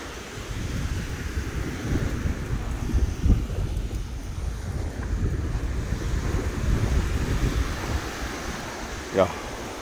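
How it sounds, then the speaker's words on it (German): Ocean surf rolling onto the beach at Khao Lak, Thailand, a low steady wash mixed with heavy wind buffeting the microphone, with a brief sharp sound near the end. "Und hier kommen wir dann zum Meer."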